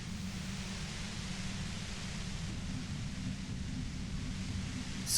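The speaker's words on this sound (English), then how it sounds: "The violent white noise becomes even more overwhelming closer to the compressor." Violent, unbroken white noise near a compressor in the video game Disco Elysium hisses evenly, with a dense low roar beneath it, holding steady at moderate loudness with a brief surge at the very end.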